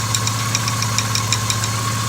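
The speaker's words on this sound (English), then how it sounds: "Normally if there's a tappet out of adjustment, it would almost be a sound like this." A classic Mini engine idles with a light metallic tappet knock from the top of the engine, a regular ticking that repeats quickly over a steady low hum, heard up close.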